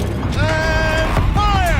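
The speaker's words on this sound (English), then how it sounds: "Rotate turret!" A turret in Horizon Zero Dawn rotates with a close mechanical creaking and whining whir, two gliding, rising tones of grinding gears, while voices speak faintly beneath.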